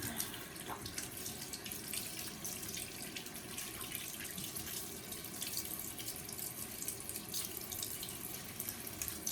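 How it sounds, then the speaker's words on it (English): Tap water running steadily into a bathroom sink while hands are washed, a soft continuous splashing stream heard close and alone with no talk. "Now I'm just gonna wash my hands"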